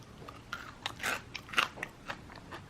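Crisp bites into homemade fish-shaped bungeoppang made from pancake-batter mix and filled with red bean paste, giving several separate crunchy crackles spaced over a few seconds, close and clear with no talking.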